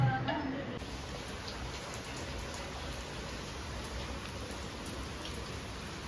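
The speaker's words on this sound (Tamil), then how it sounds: "வெயில் அடிச்சுட்டே மழை தரும்." Steady rain patters and drips on a surface in a sunshower, a continuous close hiss with scattered ticks and no pause over the whole stretch.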